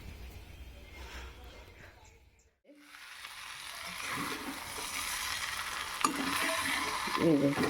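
Spices for aloo dum sauté in a pan, with a steady sizzle and stirring scrapes that build after a brief quiet gap, while someone talks over the cooking.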